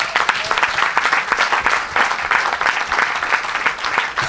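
A church congregation applauds Jesus Christ with steady, dense clapping from many hands, loud and sustained for several seconds with faint voices mixed in.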